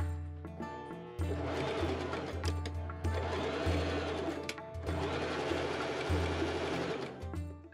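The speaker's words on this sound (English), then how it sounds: "I machine sew up the gores along the sides." A sewing machine stitches the side gores of a linen chemise in several bursts of rapid, even whirring, close and loud, separated by brief pauses with no talking.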